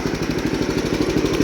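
A 1976 Gravely 526 lawn tractor engine runs steadily up close, its loud, throbbing rapid exhaust pulse holding an even, slightly rough rhythm with no voices over it.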